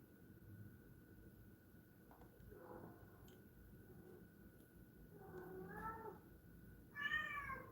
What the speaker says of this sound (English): You're one angry cat, boy.